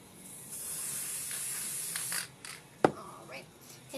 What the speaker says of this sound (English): I'm going to take my Loctite, and I'm actually going to spray the bottom down here.